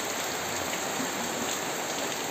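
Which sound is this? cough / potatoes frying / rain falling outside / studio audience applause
rain falling outside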